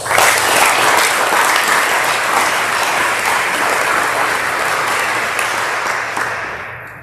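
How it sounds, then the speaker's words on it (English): Loud, dense applause for graduating seniors at an athletic awards ceremony, a full crowd clapping steadily and close for about seven seconds before tapering off at the end. "So I want to give these seniors another round of applause."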